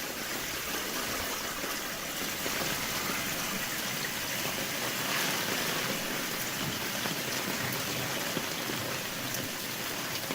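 Water pumped out of a French drain gushes in a steady, broadband rush outdoors, continuous and fairly loud with no voices.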